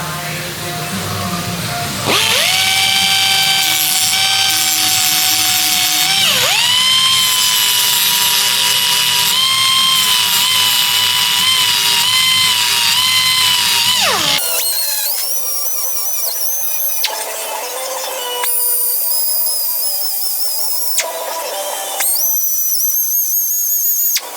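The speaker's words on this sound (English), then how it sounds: "we're going to do the top and then the side of the weld." Power grinder working the top and side of a weld on a metal corner, a loud sustained whine with shifting pitch that stops and restarts several times, running alone without talk.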